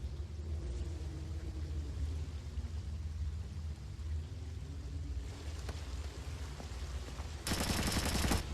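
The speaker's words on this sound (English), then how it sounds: "I'm hearing gunfire down there, Fisher." Distant gunfire rumbles in Splinter Cell: Chaos Theory (2005) under a low droning background, then a louder, harsher burst of shots near the end.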